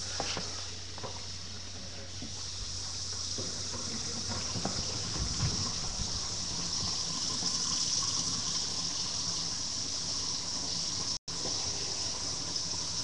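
Water runs steadily from a newly installed kitchen faucet, a continuous close gushing hiss with a brief cutoff near the end.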